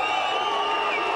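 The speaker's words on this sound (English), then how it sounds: "wild crowds screaming for a piece of Tyson" A dense roar of a wild crowd screaming for Mike Tyson in Manchester, loud and continuous in a brief burst.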